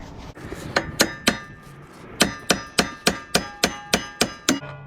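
A hammer strikes a car's lower control arm near the castle nut in sharp metallic clangs, three blows and then a steady run of about nine more, each ringing briefly.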